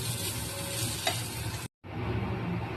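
Dal and vegetables fry in a pan with a continuous hiss and sizzle. The sound cuts out briefly near the end, then resumes at the same level with no talk.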